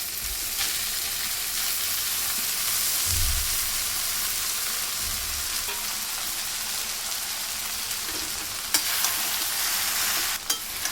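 Vegetable fried rice, with red chili sauce and rice added, sizzles steadily in a hot pan as it is mixed, giving a dense, continuous frying hiss with occasional scrapes and knocks. The sound is close and there is no talking.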